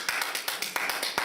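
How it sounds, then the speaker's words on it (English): A single person claps hands in a quick demonstration, about nine sharp, evenly spaced claps close to the microphone, played to show an audience how to applaud. "when you applaud the artists, what you have to do is this"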